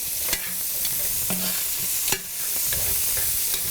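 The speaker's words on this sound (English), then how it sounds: "I want some fresh garlic. I'm going to throw that in as well." Fresh garlic fries in a pan for an Italian chicken in brandy tomato cream sauce, a loud steady sizzle with intermittent utensil clicks and scrapes as it is stirred.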